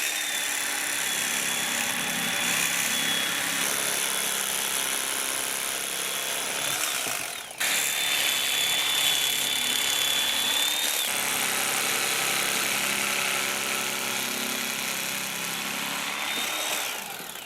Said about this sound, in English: Now this is my little electric fish knife, fillet knife.